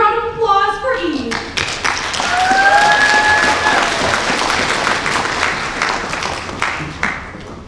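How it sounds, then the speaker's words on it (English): Audience applause for a student's competition-winning speech at a spring speech night, dense clapping filling the room steadily for several seconds with crowd noise, faint tonal sounds and whistles mixed in. "Big round of applause for Eve."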